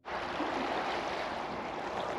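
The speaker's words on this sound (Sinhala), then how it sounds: "ලේක් සුපීරියර් විලට එකතු වෙන පුංචි දිය පාරක්." A small stream feeding into Lake Superior at Pancake Bay gives a steady, close broadband rush of flowing water, even and unbroken with no voices.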